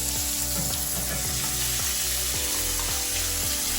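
Butter sizzling in a hot pan with NY strip steak, a loud, constant close frying crackle and hiss, with a low rhythmic pulsing underneath and no voices.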